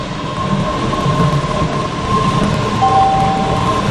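MBTA Red Line subway train in a video game rumbling in close by, with a steady roar, faint wheel squeal and high tonal whine as it pulls into the station.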